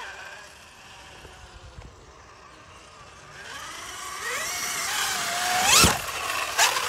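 A Losi SBR 2.0 RC car drives over a small bump, its electric motor whining softly at first, then rising in pitch and loudness as it speeds up, with a sharp burst near the end.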